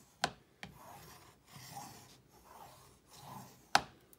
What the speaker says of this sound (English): burnish it to get that glue all spread out on here